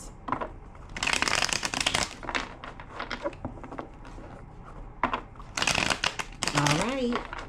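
Cards being shuffled in several quick, crisp bursts of riffling close up, separated by brief pauses, with a voice speaking briefly near the end.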